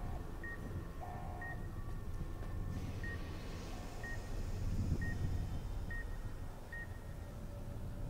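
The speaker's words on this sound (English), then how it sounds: "Stop the beeping!" Repeated short electronic beeps from the video game Fallout: New Vegas sound at a steady, roughly one-second rhythm over a low ambient game drone, with a brief lower tone early on.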